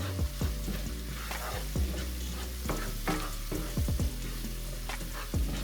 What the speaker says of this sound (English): Now add the same seasoning to the pan. 1 teaspoon of salt, pepper, cumin, curry powder, turmeric, garam masala, coriander, and chili powder. Saute for a few minutes.